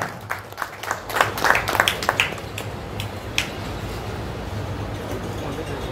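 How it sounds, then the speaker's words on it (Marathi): An audience at a Marathi cultural group's anniversary ceremony in Sangameshwar welcomes a guest with a few seconds of moderate clapping. The claps are uneven and rise over a steady hall hum, then fade into the background noise. "जोरदार टाळ्या."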